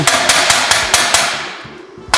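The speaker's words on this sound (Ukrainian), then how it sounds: "Зараз ми молоточком зробимо чик-чик-чик." A small hammer taps metal after semi-automatic welding, with the weld made on an MG-16DX welder. About eight sharp, ringing strikes come in a quick, fairly even rhythm, close and loud, then slow near the end.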